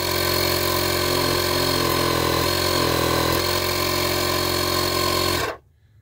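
A Joytutus portable tire inflator air compressor runs with a loud, steady mechanical buzz and rattle for about five seconds, then cuts off abruptly into quiet.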